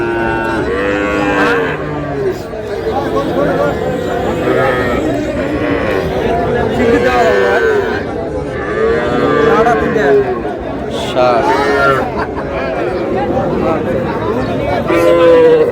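Young bull calves at a cattle market, lowing repeatedly and loudly up close, with people talking and chattering throughout.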